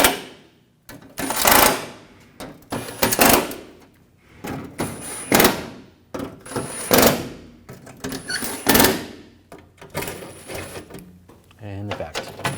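Bolts are tightened on a driveshaft coupler of a 2007-2013 BMW X5, heard as repeated bursts of ratcheting tool clicks, each a second or so long, separated by short pauses, fairly close.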